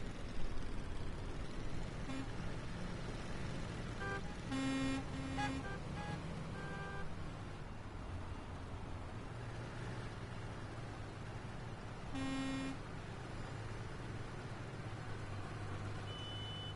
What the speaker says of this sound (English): I've got all these vehicles. Beep beep.